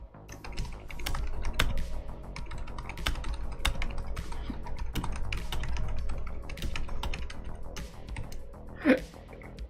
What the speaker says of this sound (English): Can you hear the keyboard through the microphone?